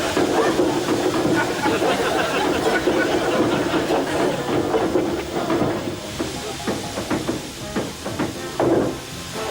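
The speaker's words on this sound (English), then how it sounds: "a good way is in the steam cabinet." Steady broadband hiss of steam filling a steam cabinet in a comedy sketch, loud and continuous throughout, with faint knocks and shifting noise near the end.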